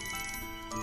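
A mobile phone rings in the animated series Winx Club, a steady electronic ringtone melody that carries through the whole moment at moderate volume.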